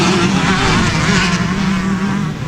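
Two-stroke motocross bikes launching at the start of an open class race, a dense, loud blare of revving engines held steady throughout.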